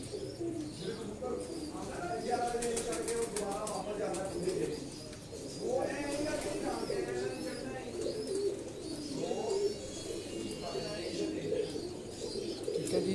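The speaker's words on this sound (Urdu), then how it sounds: "یہ سارے کبوتر جو آپ کو دکھا رہا ہوں یہ ٹیڈی کبوتر بریڈ ہے" Teddy breed pigeons cooing on a rooftop loft, with low, continuous overlapping coos and occasional chirps, fairly faint, and murmuring voices in the background.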